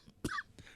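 A single short, sharp cough bursts out at moderate volume, followed by a fainter rasping breath; no speech accompanies it.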